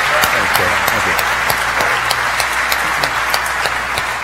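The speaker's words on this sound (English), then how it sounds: "round of applause for our panelists here" Sustained audience applause at a NASA 50th anniversary panel, dense steady clapping throughout with a faint voice or two underneath.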